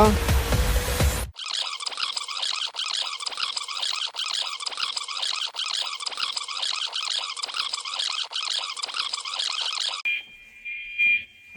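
An apartment fire alarm rings loud and steady in a repeating electronic pattern for about nine seconds, after a brief burst of voice at the start; a fainter tone follows once it stops.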